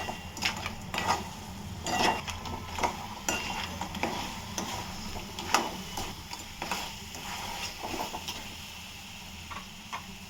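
Cleaned crabs stir-frying in hot oil with salt for a crab curry, a steady soft sizzle broken by repeated scraping and clinking of a spatula against the pan, fairly close, with no talking.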